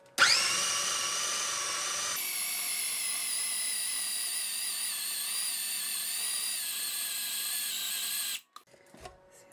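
A food processor whizzes doner meat in one continuous high motor whine lasting about eight seconds, steady and close, then cuts off abruptly with a few clunks.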